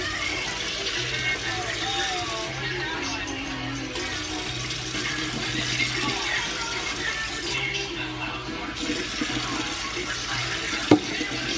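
Water poured steadily over a child's head to wash food out of the hair, a continuous splashing stream running the whole time with voices talking over it.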